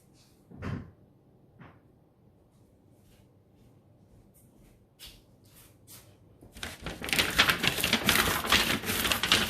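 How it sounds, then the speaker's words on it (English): An ink brayer rolls across an aluminum cookie sheet for block printing. A few faint clicks and taps in a quiet room give way to a loud, rattling metallic rolling that builds and continues to the end. "That's the sound of the aluminum cookie sheet, but the brayer stopped squeaking"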